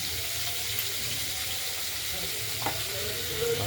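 Pieces of cut rohu fish fry in oil alongside potatoes and beans, giving a steady sizzle and crackle with a brief stir or scrape partway through.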